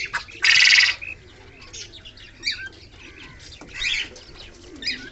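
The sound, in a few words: pigeon father feeding young, cooing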